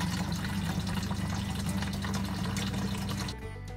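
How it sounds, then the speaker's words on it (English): Rain barrel water pours into a compost tumbler, a steady close splashing rush of liquid that runs for over three seconds and then stops abruptly. "If your compost starts to get dry, I like to use water from a rain barrel."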